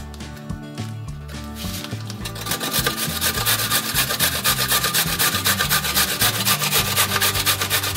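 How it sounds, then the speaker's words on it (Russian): A carrot is rubbed over a coarse grater in a steady run of fast, rasping strokes, close and even, with music playing underneath. "Для зажарки натираем морковь на крупной терке"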